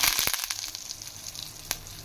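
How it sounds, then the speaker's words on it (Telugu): Curry leaves hit hot tempering oil for tomato dal and erupt in a loud, close crackling sizzle that eases into a steady fry, with a sharp pop near the end. "ఇందులోనే కొంచెం కరివేపాకు"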